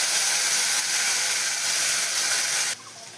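Nigella seeds, dried and ground chilli and ginger paste hitting hot oil: a loud, dense, continuous hiss that drops abruptly to a much quieter sizzle just before the end.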